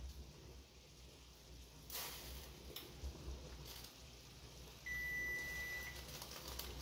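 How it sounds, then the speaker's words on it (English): A kitchen timer sounds while shrimp scampi pasta is cooked, giving one faint, sustained electronic beep near the end over low kitchen hiss. "There goes my timer"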